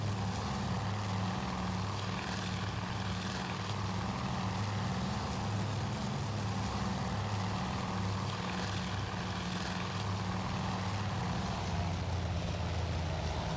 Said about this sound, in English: Just a lone float plane?